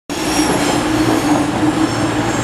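Train on the North Tyneside Steam Railway, part of the Stephenson Railway Museum, rumbling loud and close with a steady roar of wheels and a faint squealing tone, continuous throughout.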